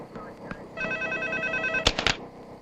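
A telephone rings with a steady electronic trill for about a second, followed by a few sharp clicks, with faint background noise and movement around it.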